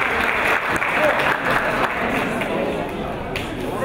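Audience applause at an Assyrian evening gathering in a hall, steady dense clapping filling the room with a crowd murmur and voices mixed in throughout.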